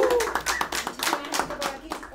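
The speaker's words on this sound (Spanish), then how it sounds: "¡Ay, un aplauso para él!" A short burst of clapping from a small group at a live radio show in a precision shop, uneven and fairly close, with voices calling out over it.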